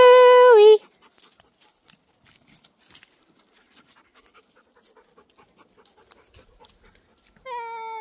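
Dog panting heavily up close at the start as it comes running back along an outdoor walk, then light scattered footfalls and rustling, with more panting returning at the end.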